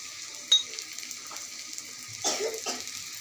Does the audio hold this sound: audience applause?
no